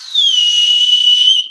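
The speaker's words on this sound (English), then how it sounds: "I can do the whistle without the fingers" A loud, steady whistle made with the lips alone, no fingers. It holds one clear high pitch for just over a second.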